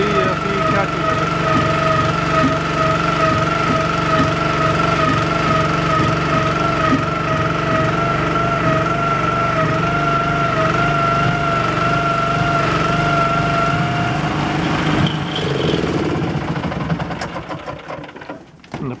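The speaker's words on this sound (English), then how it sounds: "this is my son Scott with his new pot puller pulling in a shrimp pot" A hydraulic shrimp pot puller hauling a shrimp pot from the water off a boat in Ketchikan, Southeast Alaska, giving a loud, steady motor whine and engine drone that holds, then fades near the end.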